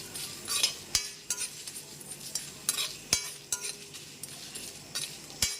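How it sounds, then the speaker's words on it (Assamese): Whole coriander seeds, cumin, a couple of dried red chillies and a bay leaf dry-roasting in a hot wok, with sharp metallic clinks of a spoon against the pan repeating irregularly over a faint crackle. "তেজপাত দি ধুনীয়াকৈ ভাজি লম"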